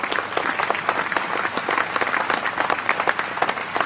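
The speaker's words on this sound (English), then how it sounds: "I got a round of applause on that." An audience claps steadily, a dense patter of many hands at moderate distance with no voices over it.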